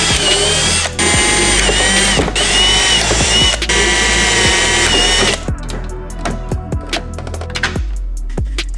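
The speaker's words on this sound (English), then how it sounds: "let's just drill a few holes in here, a few holes there" Power drill boring holes into a carbon fiber dashboard for a Hilux, a loud sustained whine broken by short pauses, followed by a series of brief sharp drill bursts and clicks.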